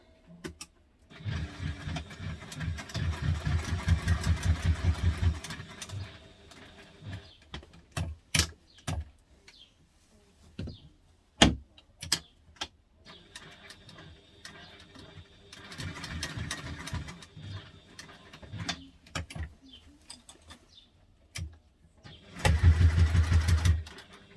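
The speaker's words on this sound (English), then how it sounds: "now we're going to sew these together" A sewing machine joining backpack pieces runs in several bursts, a long steady whir at the start, shorter stitching runs mid-way and a final loud burst, with clicks and handling noises in between.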